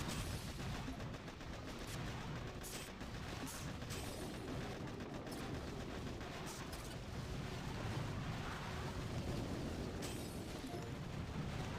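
Artillery barrage fire in the mobile strategy game Boom Beach, a dense, continuous rumble of booms and blasts that stays loud and steady throughout with no talking.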